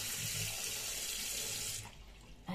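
A kitchen tap runs steadily into a sink for nearly two seconds, a loud close hiss that then drops away, followed by a brief splash.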